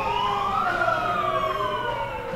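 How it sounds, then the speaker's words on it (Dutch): A wailing siren goes off at an indoor Eredivisie table tennis final in 2019, its loud rising and falling tone sounding steadily and alone. "De sirene is gewoon ook af."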